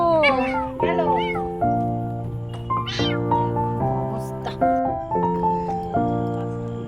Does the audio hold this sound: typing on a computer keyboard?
no